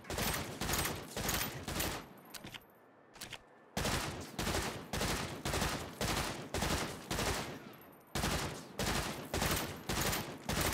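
Rapid gunfire in the video game Saints Row, loud repeated rhythmic shots in steady strings, broken by a short pause, then resuming at an even pace with no speech.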